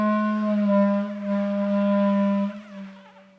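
A clarinet plays one sustained low note with fingers not fully covering the holes, giving a slightly unsteady, wavering tone for about two and a half seconds before it fades out, close and solo with no talking.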